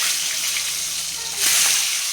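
Eggs frying in a pan with turmeric, a steady close sizzle with a brief louder burst of spitting oil near the end.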